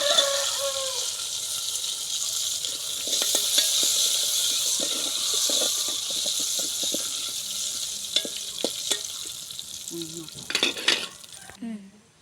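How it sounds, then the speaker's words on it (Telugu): Curry leaves and tempering spices hit hot oil for a fenugreek-leaf dal, giving a continuous, close hissing sizzle with scattered sharp crackles and pops. Stirring and a few clatters of the pan come near the end. "ఆయిల్ అయితే వేసేసుకుందామండి తాళం పెట్టేస్తున్నాను ముందుగా కరివేపాకు అయితే వేసుకుందామండి"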